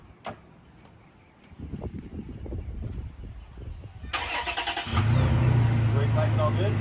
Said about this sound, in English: now I'll turn the truck on